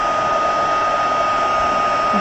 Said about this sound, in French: Hop, ça commence à prendre,